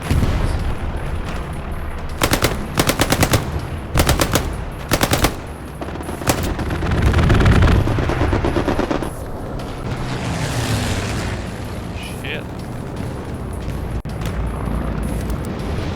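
Airstrike explosions and heavy gunfire in the war game Hell Let Loose: rapid bursts of loud automatic fire give way to a long rumbling blast, followed by sustained roaring battle noise.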